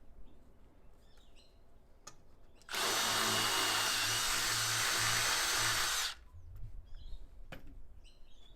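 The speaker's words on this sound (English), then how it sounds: "then you just need to put your screws on this side as well" A power drill drives screws into adjustable box gutter brackets for metal roofing, one loud steady burst of whirring lasting about three seconds. Quiet ambience with faint birdsong fills the gaps before and after.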